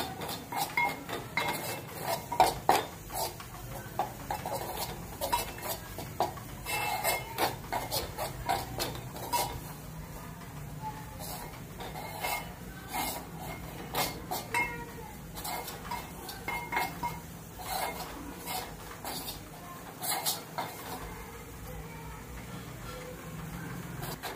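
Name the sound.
roasting gram flour with oil in a pan, stirring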